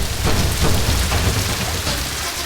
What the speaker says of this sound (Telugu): ఈ టైంలో ఆకాశంలో ఒక ఉరుము ఉరిమితే